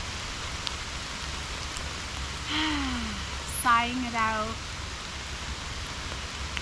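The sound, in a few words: rain falling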